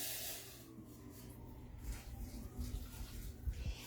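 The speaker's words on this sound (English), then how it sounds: "Now we're just going to pour this over the onion." Hot sugar and salt brine poured over onions, a soft, faint watery pouring hiss with low splashing that continues steadily throughout.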